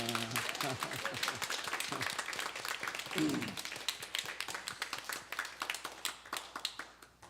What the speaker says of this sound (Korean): 다시 한번 그 감격을 담아서 우리 허은영 집사님께 감사의 박수 올리겠습니다.